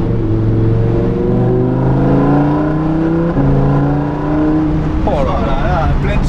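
A Lamborghini Huracan EVO engine pulls hard under full load in sport mode, a loud, steady, rising roar with climbing harmonics and a brief shift step, heard from inside the cabin with people talking over it.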